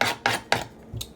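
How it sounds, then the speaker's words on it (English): A knife chopping an onion on a cutting board, four quick sharp knocks spaced about a quarter second apart, close and clear with no voice. "I'm chopping my onion up"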